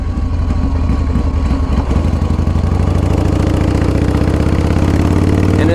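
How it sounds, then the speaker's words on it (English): A custom 2016 Harley Davidson motorcycle idles close by with a loud, steady, lumpy low rumble and pulsing beat that thickens slightly toward the end, heard alone without talking. "it's got that classic, undeniable Harley Davidson sound."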